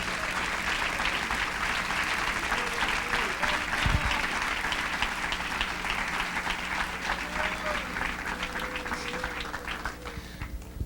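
A church congregation claps at a morning worship service, a long, steady wall of hand claps with a voice and music faintly audible beneath.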